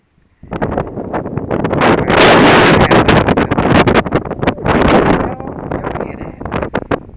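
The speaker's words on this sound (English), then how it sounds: "Y'all hear that wind?" A strong blizzard wind blows outside, roaring in loud, buffeting gusts that batter the microphone and swell and ease over several seconds.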